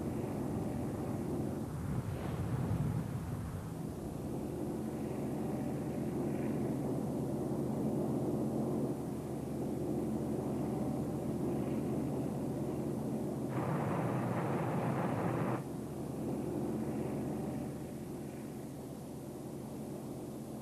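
A wartime anti-submarine aircraft engine drones steadily at a distance, swelling and fading slightly, with a brief louder rush of noise partway through.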